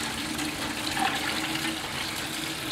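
Water trickling and splashing steadily through a homemade garden water feature, a continuous close gurgling flow with no talking.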